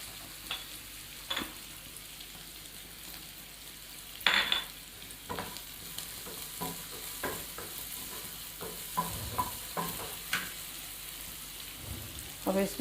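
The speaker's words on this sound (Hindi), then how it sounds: "इसको हमने ज़ीरा डाल के थोड़ी देर इसको भून लेंगे।" Cumin and masala roasting in a pan, a soft continuous sizzle with scattered scraping stirs of a spoon against the metal, fairly quiet and close.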